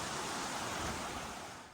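Cold snowmelt pours off a snow field in the Goat Rocks, a close, steady rushing of water that fades slightly at the end.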